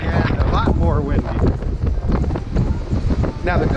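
Strong wind buffets the open deck of the cruise ship Norwegian Gem on a rough sea, a loud, steady broadband roar with gusts, while a person talks over it.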